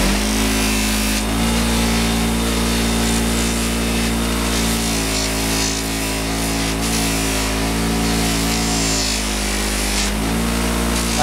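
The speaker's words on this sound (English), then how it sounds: "I like to run them on the wire wheel, the fine wire wheel, get out all the old Loctite" A bench grinder's fine wire wheel whirs loudly and continuously as it scrubs old Loctite from steel motorcycle bolts, the steady motor tone shifting briefly as each bolt is pressed against it.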